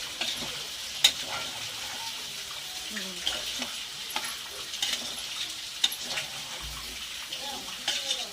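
Rice being stirred into masala for veg biryani gives soft, irregular scraping and clinking in a pot, with a faint sizzle running underneath and quiet speech at times.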